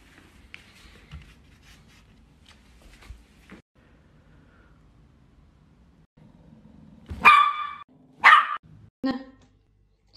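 A dog gives three sharp barks in quick succession near the end, loud and close, after a stretch of quiet speech and soft background sounds.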